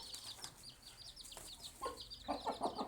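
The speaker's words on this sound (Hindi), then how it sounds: "ये देखें, ये मुर्गा है जी" A rooster, a fighting bird, clucks in short bursts close by, with scattered chirps from other fowl and some wing flapping in the background.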